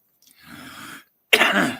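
A soft breathy exhale followed by a single sharp, dry cough, close and fairly loud.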